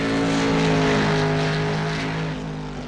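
A race car engine drones loudly with a steady, harmonic whine, holding close and then fading slightly as it moves past in a racing video game, with no voices.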